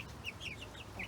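Several soft, high chirping clucks from nearby chickens, a few quick calls in about a second over low background noise.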